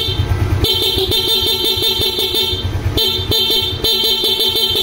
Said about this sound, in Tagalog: Sige, busina.